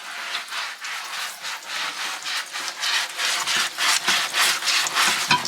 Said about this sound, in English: Using a 180 grit sanding sponge.